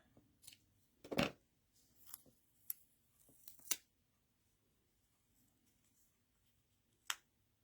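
Scissors snip through a thin paper strip while making a card, with a few quick close crisp cuts in the first four seconds and one last snip near the end, quiet in between.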